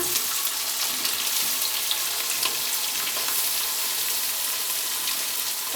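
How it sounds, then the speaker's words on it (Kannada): Onion tips into hot oil in a frying pan with cumin and green chillies for a millet vegetable upma, giving a loud, steady sizzle and frying crackle with faint stirring scrapes throughout. "ಈಗ ಒಂದ್ಸಲ ಮಿಕ್ಸ್ ಮಾಡ್ಕೊಳ್ಳೋಣ ಈಗ ಈರುಳ್ಳಿ ಹಾಕ್ಕೊಳ್ಳೋಣ"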